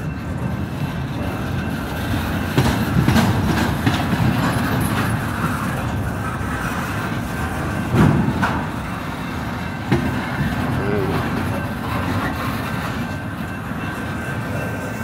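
Freight train cars roll through a rail yard with a continuous low rumble, faint metallic squeal and occasional clanks and thumps, heard at some distance and steady throughout.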